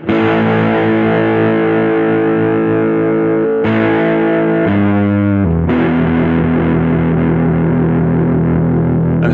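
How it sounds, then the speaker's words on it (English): Heavily distorted Harley Benton CST-24 HB electric guitar chords on the humbucker ring out loud and sustained, with a brief change of chord shape partway through before the crunchy tone continues. "If I turn on distortion"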